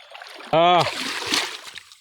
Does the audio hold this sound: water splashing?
yes